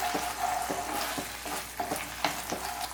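Baby corn manchurian sauce with tomato ketchup stirred in a hot pan, steady sizzle under regular scraping strokes of a spoon, close up with no talking.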